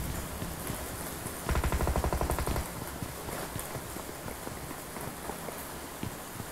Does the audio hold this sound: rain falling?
yes